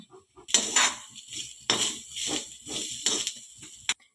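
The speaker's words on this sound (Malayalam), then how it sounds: "നമുക്ക് തേങ്ങ നന്നായിട്ട് വറുത്തെടുക്കാം" Grated coconut with turmeric and curry leaves roasting in a pan, stirred with a utensil that scrapes and clinks against the metal in short, irregular strokes.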